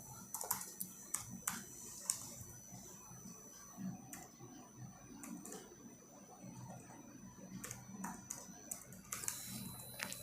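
Fingers tap code out on a computer keyboard, quiet irregular clicks and occasional sharper keystrokes in bursts over a low room hum, with no talking.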